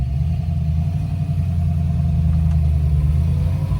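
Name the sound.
1966 Shelby GT350H Hertz 4-speed driving off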